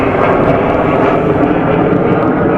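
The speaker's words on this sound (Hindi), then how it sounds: "वो जेट जा रहा है, जेट।" A fighter jet flies overhead on a practice run near the highway route to Amritsar, a loud continuous roaring rumble that fills the whole stretch without easing.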